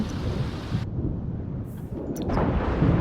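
Thunderstorm in The Sims 4 video game: a loud, deep rumble of thunder with heavy rain hissing throughout, the rumble swelling again toward the end.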